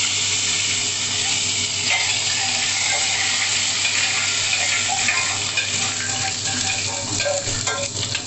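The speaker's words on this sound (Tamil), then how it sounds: "பட்டை போடுறேன். எல்லாம் பொரியட்டும். கருவேப்பிலை போட்டுறேன்." Cinnamon bark and curry leaves sizzle and crackle in hot oil for a kurma, a steady close frying hiss with scattered pops throughout, no talking.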